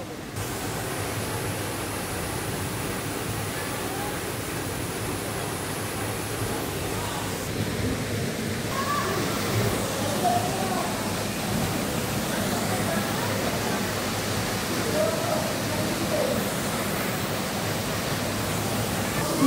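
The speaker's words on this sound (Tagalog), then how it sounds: "Nandito na tayo sa Mayang Falls." Mayang Falls waterfall in Cavite roars as a constant, dense wash of falling water, loud and steady throughout with no breaks.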